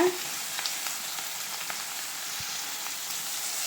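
Cloves, panch phoron, onion and dried chilli fry in oil with a quiet, even crackling sizzle that holds steady throughout the short stretch.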